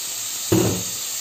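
Prawns going into hot oil and spices for a bottle gourd curry, giving a sudden loud sizzling burst that settles into a steady hiss over a constant background hiss.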